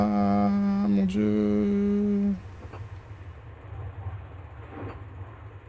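In the Omori video game, a train sounds a loud, sustained horn-like tone for about two seconds, then a quieter rolling rumble carries on steadily.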